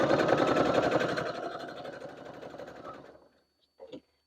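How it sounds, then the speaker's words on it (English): Sewing machine stitching binding onto quilted fabric, a fast, close mechanical whir of rapid needle strokes that gradually slows and stops, followed by a brief click near the end. "we're gonna stitch right onto our fabric"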